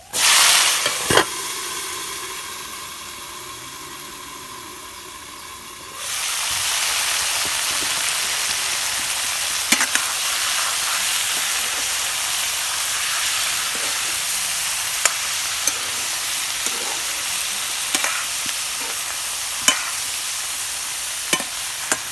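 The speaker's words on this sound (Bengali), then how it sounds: "তেল গরম হয়েছে এখন আমি পেঁয়াজ দিয়ে দিব" Onions hit hot oil in a pan while cooking red amaranth greens with new potatoes, a loud broadband sizzle that settles into steady frying crackle with scattered pops and occasional stirring clinks, no voices.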